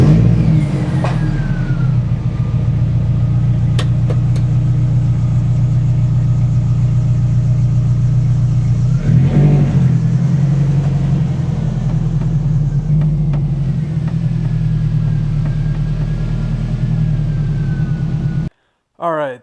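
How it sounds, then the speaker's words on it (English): A Nissan 240SX with its KA engine idles steadily and loudly close by, a constant low droning hum with a brief blip partway through, before it cuts out near the end. "before I shut the car off, I'm gonna pull the fuel pump relay so that the engine dies"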